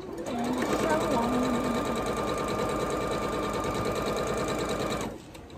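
A sewing machine stitches quilt pieces for a scrappy spools cabin block, humming at a steady, close, even pace for about five seconds before it stops.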